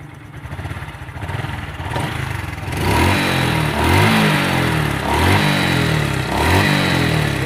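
A Honda Blade 125 Fi motorcycle engine with its cover off is started, then idles with a loud, close, uneven clattering rumble and a few blips of the throttle.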